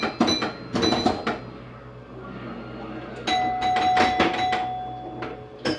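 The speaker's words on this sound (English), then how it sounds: "you hear that bell right there, and that's all you're going to hear is just bells," Bells ring in repeated sharp strikes, some in quick clusters, from a 1979 Brunswick Aspen pinball machine, with rattling mechanical play and a steady hum underneath.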